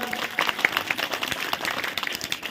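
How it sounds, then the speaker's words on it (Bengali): An audience claps at a stage event for a local youth committee program, a dense burst of hand claps lasting a couple of seconds, fairly close and lively. "এদের জন্য আরেকবার জোরে হাততালি হয়ে যাক।"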